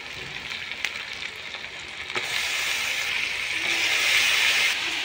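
Mutton and potatoes fry in a pan for a Bengali mutton curry. A steady, hissing sizzle swells louder as the meat goes in, with a few faint clicks of stirring and no talking.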